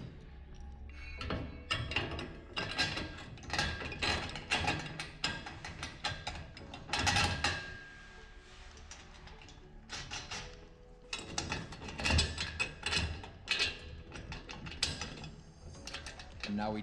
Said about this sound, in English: And now we tighten down the nose first to lock everything in place.